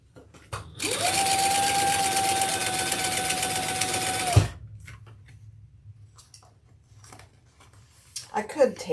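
A sewing machine runs in one steady, fast, close burst for about four seconds while stitching a Julie tote bag from difficult fabric, then stops with a thump, followed by quiet room noise and faint rustling.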